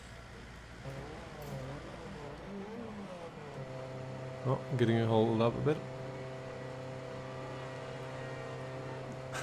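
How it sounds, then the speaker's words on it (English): F1 car engine in the video game F1 2010, a humming tonal drone that rises sharply into a brief loud rev midway, with someone talking over it. "let's go out on track and start up the engine"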